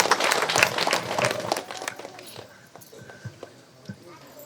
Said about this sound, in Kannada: ಅವ್ರಿಗೋಸ್ಕರ ಒಂದ್ಸರಿ ಚಪ್ಪಾಳೆ ಮುಖಾಂತರ ಅವ್ರನ್ನ ಇದು ಮಾಡೋಣ